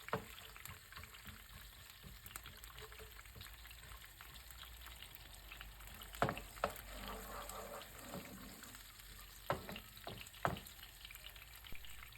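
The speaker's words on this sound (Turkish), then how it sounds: "Cevizimizi ekleyelim ve ikisini şöyle bir kavuralım." Walnuts and sun-dried tomatoes toast in genuine olive oil with garlic for a Turkish meze, a quiet low sizzle punctuated by occasional scraping stir clicks and a few louder knocks.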